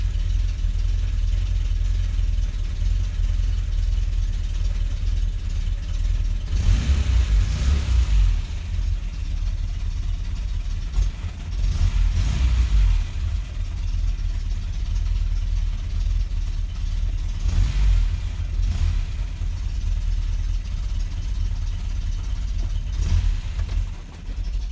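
Škoda 105L engine running steadily at a low, rough idle, with several brief revs that rise and fall back, close and continuous without talk.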